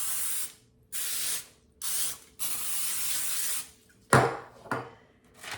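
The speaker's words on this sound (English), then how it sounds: "spray the pan so when we lift it out, we can pull this away." Cooking spray hisses onto a baking pan for low-carb brownies in several close, loud bursts of about a second each, separated by short pauses, with shorter spurts near the end.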